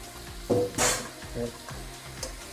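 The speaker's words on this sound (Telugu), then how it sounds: "మ్యాగ్నేట్ చేసిన చికెన్ వేసుకుందాం." Marinated chicken with ginger-garlic paste sizzles in a pan while being stirred, with a loud hiss burst, clattering spoon scrapes against the pan and a low background hum, no clear speech.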